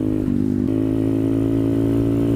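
A Honda Grom small motorcycle riding through thick woods, its engine humming loud and steady close by, with a slight rise in revs early on before settling into a constant drone.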